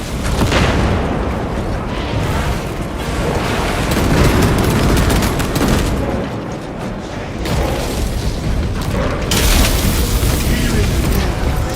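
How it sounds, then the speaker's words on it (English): Space Marine 2 battle noise after a fragmentation grenade is thrown: loud, continuous rumbling blasts and rapid gunfire washing together, with heavy booms surging midway and again near the end. "Throwing fragmentation grenade."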